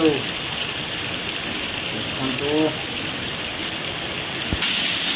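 Steady roar of heavy rain pouring down throughout, with someone speaking briefly over it.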